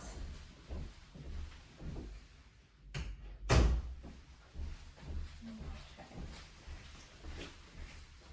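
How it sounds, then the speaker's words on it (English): A room door being closed at home, one sharp soft thud near the middle of otherwise quiet faint shuffling and handling noises, low in level. "I'm going to close the door for privacy and gather my supplies."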